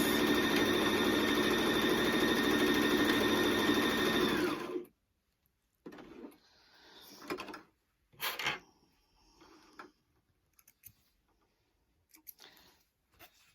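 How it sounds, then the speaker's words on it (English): A Brother LS14 sewing machine runs at a loud, steady whirring hum for about five seconds while stitching, then stops, followed by quieter intermittent mechanical clicks and rustling as the fabric is handled and the machine is set to reverse. "if we were going to do some stitching and wanting a reverse"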